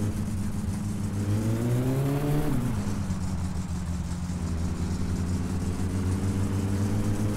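A car engine in the video game My Summer Car, running steadily with a rising rev that drops back and then climbs gently again, close and continuous with no talking.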